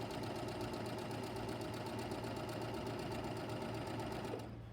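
A sewing machine stitches a quilt border in a fast, steady, close whirring chatter that runs continuously, then stops abruptly near the end.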